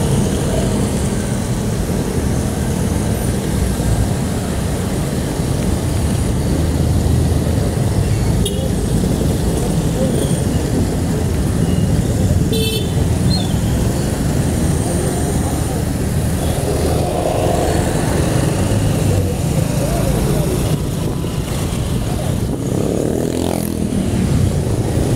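Heavy daily traffic on a congested road, a constant dense roar of engines and motorbikes passing close by, with occasional brief horn-like tones and faint talk buried in the noise.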